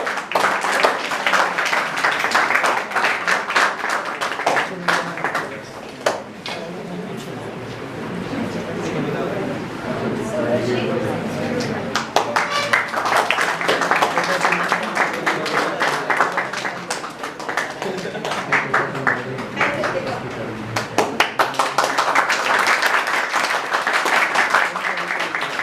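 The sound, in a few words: audience applause at a school seminar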